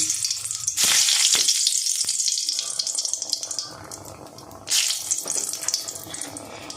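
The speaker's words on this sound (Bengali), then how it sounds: "শুকনো লঙ্কাটা একটু ফাটিয়ে দেব, নাহলে ফেটে গায়ে লাগতে পারে" Dried red chillies crackle and sizzle in hot oil in a pan, a loud broadband hiss that bursts in suddenly, eases off, then surges again near the end, with a few sharp pops along the way.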